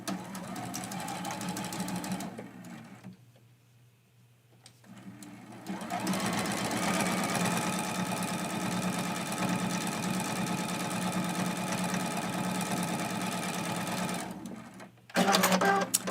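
A sewing machine stitches a small leader scrap while piecing a quilt-as-you-go mug rug. A short run and a pause lead into a long, steady, close whirring stretch, then a quick final burst.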